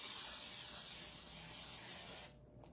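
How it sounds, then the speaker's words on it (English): Makeup setting mist sprayed onto a face: a close, steady airy hiss lasting over two seconds, then cutting off abruptly, followed by a brief faint puff. "So I'm gonna go ahead and just spray my face."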